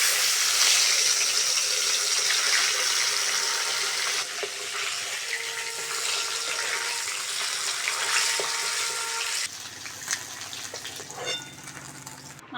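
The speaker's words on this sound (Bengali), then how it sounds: "সব শেষে মাছের লেজাগুলো ভেজে নেব।" Fish tails fry in hot oil with a loud, steady sizzle and crackle that runs throughout. Occasional clinks and stirring sounds come through, and the sizzle settles slightly lower near the end.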